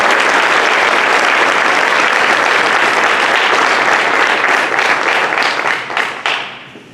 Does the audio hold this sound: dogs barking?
no